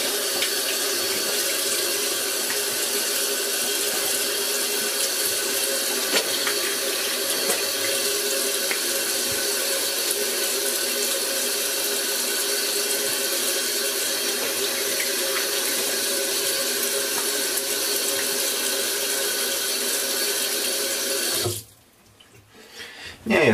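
Warm water runs steadily from a sink tap for about twenty seconds, a loud, even rush close by with no voices, during a shave with a clay mask, then cuts off abruptly near the end.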